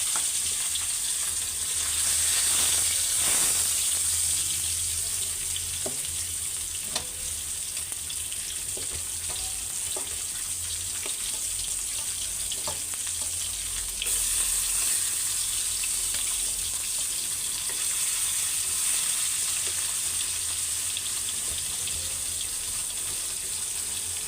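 Jatka fish curry sautés with tomato and green chili, giving a constant broadband sizzle and hiss with occasional soft stirring knocks, steady and fairly close, no speech.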